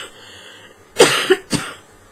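Two short, sharp coughs from a woman with a cold, close and fairly loud, the first with a quick double catch, separated by a brief pause in a quiet room.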